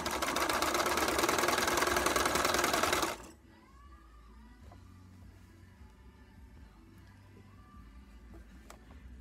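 A sewing machine stitches pieces of blue fabric, running loud and steady with a rapid mechanical whirr for about three seconds, then stops abruptly, leaving a quiet room with faint handling sounds.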